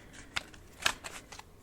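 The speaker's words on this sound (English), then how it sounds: "feel when it feels like time to stop shuffling" Tarot cards being shuffled by hand, heard as a few short, soft riffling bursts close by in an otherwise quiet room, with no one talking.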